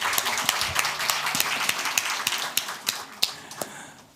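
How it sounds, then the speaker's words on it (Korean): A church congregation applauds two Sri Lankan guests during Sunday worship, a steady wash of many hands clapping with a few sharper, louder claps popping out throughout. "박수 한번 하십시다"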